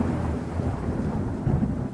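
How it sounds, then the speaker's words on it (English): Deep, rumbling thunder from a storm rolls on continuously with a heavy low roar, loud and close, with a hint of rain beneath it and no voices. "You're struck by lightning."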